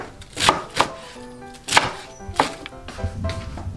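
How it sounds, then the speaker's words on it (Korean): A kitchen knife chops salted napa cabbage for kimchi on a cutting board, giving sharp, uneven thuds close by in a quick but irregular rhythm, with no talking. "이거 너무 잘게 썰은 맛이 없으니까 이렇게 김치 썰어서"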